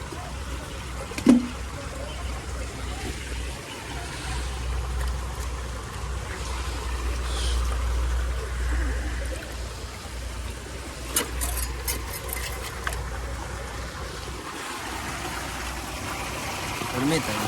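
Storm water in El Salvador flows through a broken drain opening after a heavy storm, a steady low gurgling rush with occasional splashes and clicks while people talk nearby.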